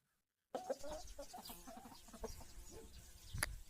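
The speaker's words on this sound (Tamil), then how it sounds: "கோழி" A chicken clucking in a short series of calls over a busy farmyard background, with a sharper squawk near the end.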